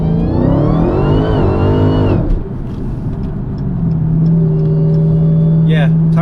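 A Dodge Hellcat fitted with a cradle lockout launches hard from a standstill with its tires spinning: a loud, rising engine roar for about two seconds, then a dip and a steady drone at high revs.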